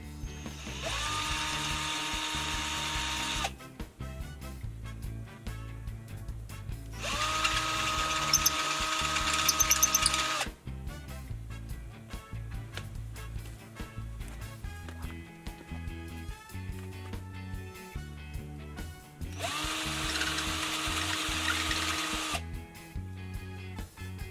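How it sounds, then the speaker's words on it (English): A power drill boring quarter-inch holes in three separate bursts, each a whining, rising drone that lasts a few seconds, with quieter mechanical clicks and pauses between them. "we're just going to go ahead and drill the holes"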